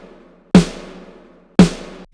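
Two sharp, loud snare drum hits about a second apart, recorded with all mics together, each with a bright crack and a ringing, rattly decay.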